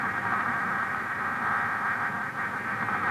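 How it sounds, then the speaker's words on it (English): A tracking transmitter on a swimming salmon in Lake Michigan off Algoma sends a steady, unbroken hissing, buzzing tone to an underwater microphone, loud and constant for the whole stretch with no voices. "The sound you hear is being transmitted from the back of the swimming salmon."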